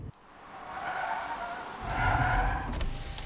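A car brakes hard to a stop with a loud, close tire squeal and skid that swells and holds for a few seconds.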